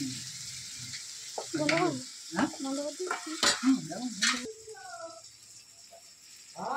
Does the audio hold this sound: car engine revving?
no